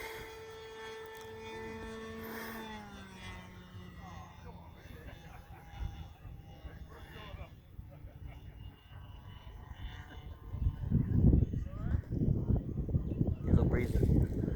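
A P-51 Mustang's piston engine during a go-around on a breezy landing approach, droning steadily at first and then swelling into a loud, rough roar as power comes up over the last few seconds, with voices present.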